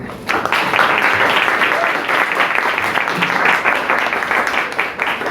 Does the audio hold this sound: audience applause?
yes